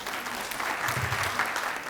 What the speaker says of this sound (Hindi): आप सब से अनुरोध है कि ताली बजा करके उनका स्वागत करें।